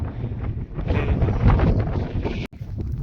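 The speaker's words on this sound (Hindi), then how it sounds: "यहाँ बहुत तेज़ हवा चलने लगी है और ठंडी ठंडी हवा चल रही है यहाँ पे" Strong, cold wind gusts across the high mountain pass at Umling La, roaring and buffeting the microphone in uneven surges, loud and close, with a sharp brief dropout near the end and no talk.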